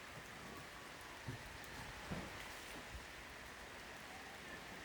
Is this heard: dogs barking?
no